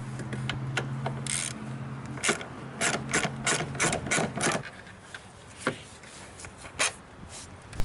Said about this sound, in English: Now remove the two bolts that hold down the silencer box with a 10mm socket.